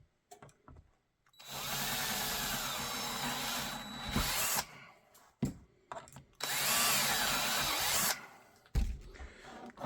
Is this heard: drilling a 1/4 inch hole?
yes